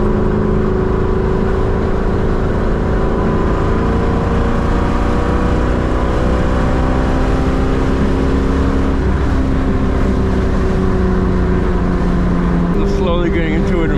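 A straight-piped 2003 Mustang GT pulls hard in gear, its loud, raspy exhaust droning continuously from inside the car and climbing steadily in pitch, with a brief shift-like break near the end.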